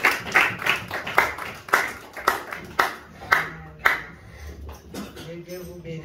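A church congregation claps in steady rhythm to acclaim the word, sharp hand claps repeating about twice a second, close and lively, with voices rising at the end.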